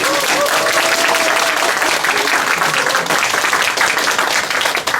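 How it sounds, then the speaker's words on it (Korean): A crowd at a neighbourhood residents' general assembly in Jongchon-dong, Sejong, claps steadily and loudly to welcome guests being introduced. The applause is continuous and dense throughout, with a faint voice beneath it. "한 분 한 분 소개해드릴 때마다 뜨거운 박수로 환영해 주시기 부탁드리겠습니다."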